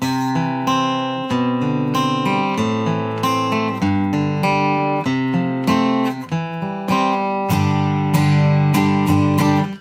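Continuous strummed guitar chords ringing out, with sustained harmonic strums changing every second or so, played alone and fairly loud.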